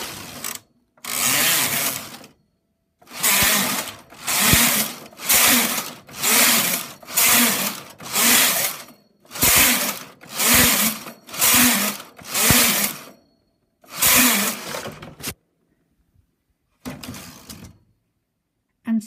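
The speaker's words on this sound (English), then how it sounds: "Two rows with the knit carriage." A Brother knitting machine's knit carriage is pushed across the bed while knitting lace rows, each pass a loud, rasping slide of a second or so, repeated about a dozen times with short pauses between and a few shorter passes at the end.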